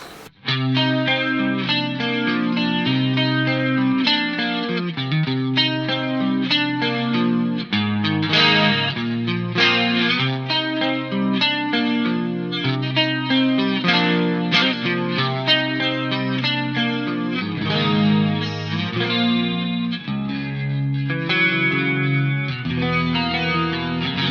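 Clean electric guitar through a solid-state ADA MP-1 preamp tone on an Axe-Fx III, chorused and shimmering, strummed chords and picked notes ringing steadily with no talking.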